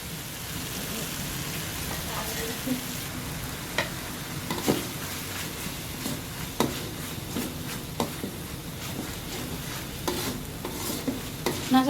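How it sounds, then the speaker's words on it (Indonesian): Spice paste sautéed with kaffir lime leaves in a pan for sosis solo, a continuous close sizzle and crackle with occasional sharper ticks and stirring scrapes, with no talk over it. "kita akan tumis hingga harum ya. Kita akan masukkan daun jeruknya"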